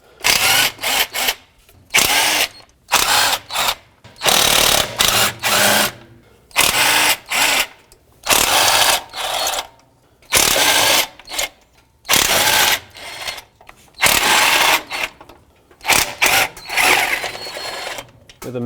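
Power tool spinning off 12 mm starter nuts and bolts on a Toyota Sequoia, in about a dozen loud, close bursts of whirring, each a second or so long, separated by brief pauses.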